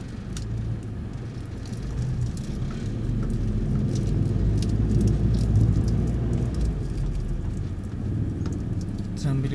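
Inside a car driving in the rain, with a steady low road rumble and engine hum under a patter of rain on the body, holding at a moderate level throughout, with occasional voices.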